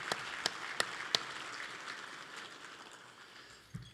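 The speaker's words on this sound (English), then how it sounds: "So a warm round of applause." Audience applause at a charity luncheon, a soft steady wash of clapping with a few sharper nearby claps standing out early, gradually fading toward the end.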